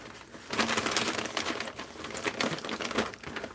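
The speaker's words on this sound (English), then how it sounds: "let's crinkle up this paper. We'll give you some crinkly paper sounds" A sheet of paper is crinkled and crumpled by hand, close and fairly loud, as a continuous crackling rustle lasting a few seconds.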